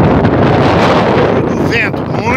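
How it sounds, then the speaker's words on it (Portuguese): Strong wind gusting over the Piracicaba river at a reservoir, a loud, constant buffeting roar against the microphone, with a person's voice briefly audible near the end. "Muito vento, vento demais."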